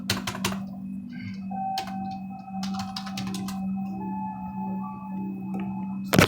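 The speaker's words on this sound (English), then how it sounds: "We're gonna look at my computer real quick, sorry, so I can type." Quick clusters of keystrokes on a computer keyboard come and go over a constant electrical hum and a faint tonal whine, with the clicks nearby and the rest of the stretch fairly quiet.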